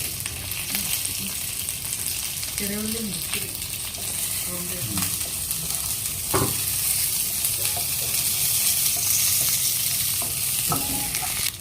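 Shallots sizzle and crackle steadily in hot oil with curry leaves, a continuous close frying hiss with a few brief stirring scrapes, no talk.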